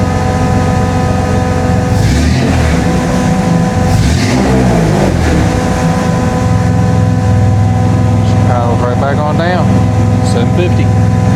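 Carbureted engine in a Ford Bullnose truck idling, then revving up and settling, loud and close, with someone talking over parts of it.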